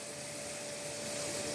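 A 2000-watt hair dryer blows a steady, even rushing roar with a faint hum, running nonstop and close by, with no voices.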